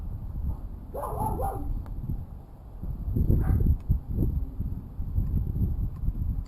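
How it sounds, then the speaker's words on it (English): Several dogs bark and yip in bursts through the whole stretch, fairly near and loud, with uneven repeated barks and no clear talk over them. "let them bark at whatever they're gonna bark at."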